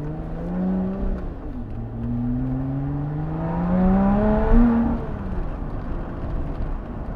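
Lotus Exige Sport 380 sports car cruising slowly around 20 mph, its engine humming and rising gently in pitch as it accelerates, steady and close with a smooth drone.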